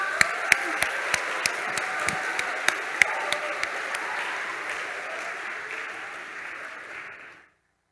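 Audience applause at a high school graduation ceremony in a hall, with a dense wash of clapping, a few sharp louder claps standing out early, then a steady roar that tapers off and ends abruptly.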